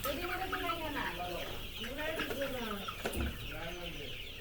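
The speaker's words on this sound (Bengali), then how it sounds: "এই যে এগুলি হচ্ছে ফাউমি মুরগি" White and black-and-white Fayoumi chickens on a Narayanganj poultry farm cluck repeatedly in close, overlapping bursts, with several birds calling at once over a soft background murmur.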